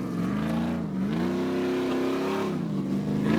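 A 4x4 off-road competition truck called the Wolverine at the Suzuki Extreme 4x4 Challenge revs hard, its engine droning loudly and steadily with rising and falling pitch.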